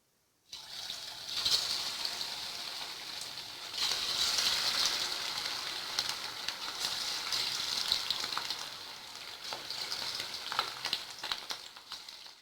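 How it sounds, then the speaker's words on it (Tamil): Steady, loud sizzling of chicken frying in hot oil for chilli chicken, with crackling pops throughout and no talking. "நம்ம இப்போ சிக்கனை பொரிக்க ஆரம்பிச்சிடலாம்."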